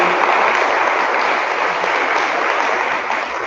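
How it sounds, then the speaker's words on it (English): An audience at a political evening event bursts into loud, continuous applause, a thick wash of clapping hands close by that eases slightly toward the end. "big round of applause for everyone that was"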